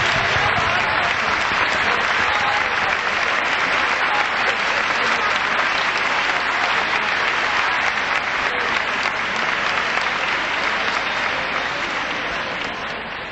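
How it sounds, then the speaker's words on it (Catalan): Sustained applause from a festival audience at a 1991 regional music-society festival, a dense continuous clapping that stays loud and steady throughout and fades slightly at the end. "jo també demane un fort aplaudiment."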